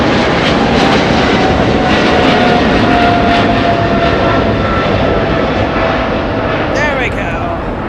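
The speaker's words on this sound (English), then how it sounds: "Big 777 taking off" A Boeing 777 airliner takes off at Los Angeles airport, a loud continuous engine roar that holds steady and fades slightly at the end, with a person talking over it.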